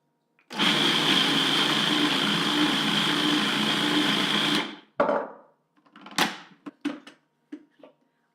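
A food processor whirs steadily for about four seconds while blending lemon, basil and cashew pesto with olive oil, then cuts off, followed by a few short clattering knocks and taps of the lid and blade.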